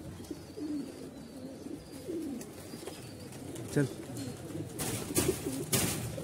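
Pigeons coo softly on a rooftop loft, low murmuring calls drifting in the background while a person speaks briefly and sharper taps and rustles come near the end.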